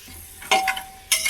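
Vegetables and mutton for a mutton paya soup are stirred in a hot pan, giving short bursts of scraping and sizzling, two louder strokes separated by quieter hiss, with no speech.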